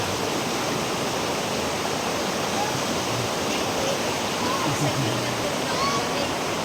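The Tugnaw River, a cold mountain river, flowing with a dense, continuous rushing roar close by, steady and loud throughout with a faint voice partly masked underneath.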